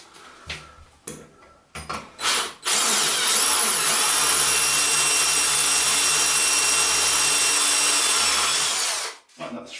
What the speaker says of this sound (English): That is the proper tile drill.